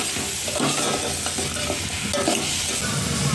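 Ridge gourd and prawns with turmeric and salt cooking in hot tempering, a dense continuous sizzle with repeated close scraping stirs, loud and with no voices.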